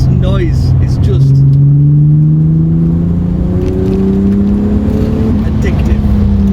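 Inside a supercharged, 277 bhp VW Golf Mk2 VR6 on a mountain pass, the engine climbs steadily through a loud, rising drone with supercharger whine, a brief gear change early, then a long pull that keeps building.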